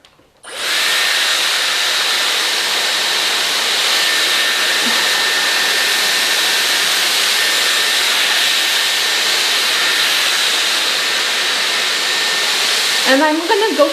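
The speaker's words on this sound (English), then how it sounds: "just run the Dyson to make sure my hair is smooth" A Dyson AirWrap smoothing brush blows hot air on hair with a loud, steady whirring hum that starts abruptly and runs unbroken, then ends with a few handling clicks.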